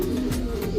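Soft, low pigeon coos rise in a breeding loft of solo-sola family birds, a short rounded murmur heard close by.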